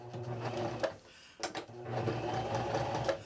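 A sewing machine back stitches fabric for a mini stocking ornament, its needle running in a steady close whir that pauses briefly before restarting.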